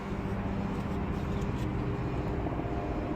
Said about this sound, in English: I hear planes